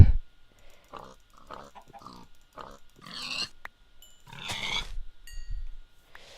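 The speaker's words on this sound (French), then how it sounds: "Voilà, super, les cochons sont enfermés." Pigs grunt and oink in the video game Minecraft, a series of short nasal snorts spaced irregularly, with a louder squealing grunt near the end and a quiet pen of game sounds around them.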